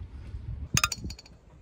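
Glasses clink together in a toast on a boat at a marina, a single bright ringing clink with a short shimmering tail, close and clear over soft background noise.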